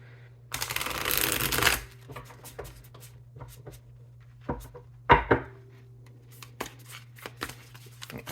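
Tarot cards riffle in a short, crisp burst, followed by a few soft taps and shuffling sounds in a quiet room with a low hum.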